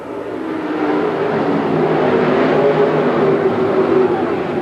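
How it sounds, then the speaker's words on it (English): Outlaw sprint cars roar together in a 1993 race at Buckeye Speedway, a loud, continuous engine drone that swells slightly as the pack passes, with no talk over it. "Here they come, the Outlaw Sprint Cars underway."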